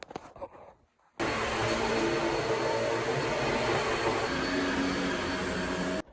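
Household vacuum cleaner switching on after brief clatter, then a steady loud whine and roar running evenly for about five seconds before cutting off.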